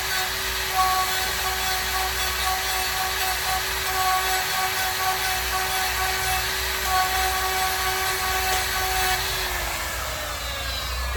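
Die grinder fitted with a Saburrtooth eyeball burr carving a reptile-scale texture, a loud continuous high-pitched whine held steady for several seconds before the pitch drops as the tool winds down.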